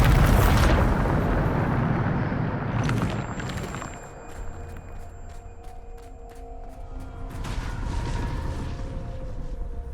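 The Bombarda spell in Hogwarts Legacy sets off a loud explosion with a deep, rolling boom at the start. It fades into lingering rumble and scattered clinking debris, with no one speaking.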